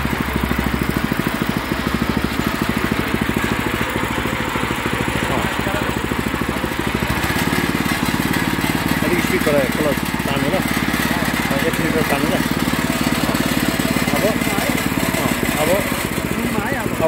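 A hand tractor engine runs steadily up close, a loud continuous mechanical drone with rattling that shifts slightly in pitch partway through as it keeps moving.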